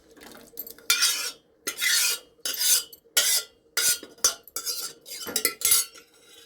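Cooked dal being scooped with a metal spoon into another pot, repeated scraping and clinking strokes against the vessel in an uneven rhythm, close and clear.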